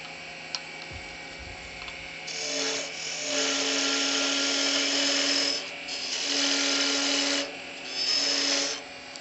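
Wooden Christmas tree ornament spinning on a wood lathe as its trunk and base are narrowed, with a steady raspy cutting hiss that swells in three long passes over a constant motor hum.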